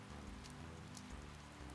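Steady rain patters in the video game Summer of Doom II, a continuous dense hiss running under low droning moody music throughout.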